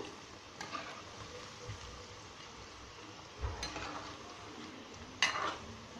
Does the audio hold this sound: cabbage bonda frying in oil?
yes